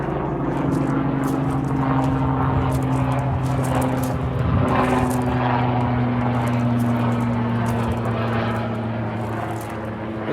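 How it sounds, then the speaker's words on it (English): Loud rotor-driven aircraft, called a chopper, passing directly overhead at a car forecourt, with a steady heavy drone and low tonal hum that swell and hold for about ten seconds with no talking. "Sounds like the loudest chopper in history is now going to go right overhead."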